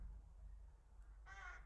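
Crows caw outside a window, a couple of short harsh calls near the end over quiet room hum.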